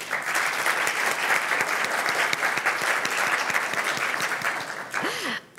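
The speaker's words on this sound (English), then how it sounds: "Please applause." Audience at a festival panel on AI and music applauding steadily for about five seconds, a dense, even wash of clapping that fades at the end, with a brief vocal sound near the close.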